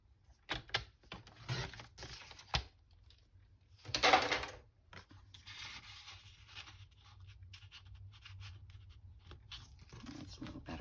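Paper for a junk journal being trimmed down by hand: a few soft scraping, crunching cuts and handling noises, with one louder rustling burst in the middle, close and quiet, no talking.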